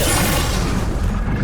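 Confringo spell blast in Hogwarts Legacy: a single loud, broad explosive boom with a rushing burst that decays quickly.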